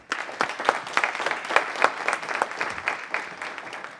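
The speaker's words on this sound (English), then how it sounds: "let's give him a big round of applause" Scattered audience applause at a city council meeting, individual claps distinctly audible in a small room, moderately loud and irregular for a few seconds.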